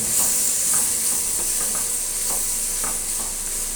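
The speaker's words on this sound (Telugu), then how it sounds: "ఆ వేడి మీదనే అది బాగా ఫ్రై అయిపోతుంది" Grated amla (Indian gooseberry) frying in a hot pan off the stove for amla pulihora, giving a steady close hiss and sizzle with a few faint stirring scrapes.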